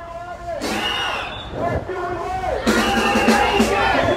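A crowd of activists at an animal rights march in Midtown Manhattan chants and yells in loud bursts, voices rising and swelling together close by.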